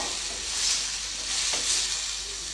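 Pineapple pieces frying in oil in a pan for a sweet-sour gojju, giving a steady, soft sizzling hiss that swells gently twice, close by and alone with no talking.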